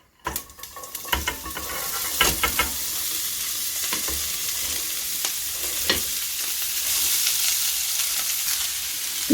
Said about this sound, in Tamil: இப்போ இந்த பீன்ஸை அப்படியே கொட்டுவோம்.